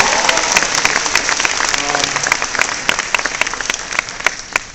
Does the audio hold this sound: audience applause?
yes